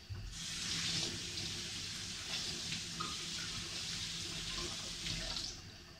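Tap water running steadily into a sink while a potato is washed under it, a loud close rushing splash that holds for about five seconds before cutting off, no talk.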